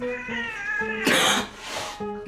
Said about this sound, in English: This is my most voluptuous cat, Casper.